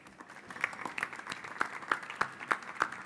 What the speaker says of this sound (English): Please, with a nice warm round of applause, welcome to the stage, Susanne Merten.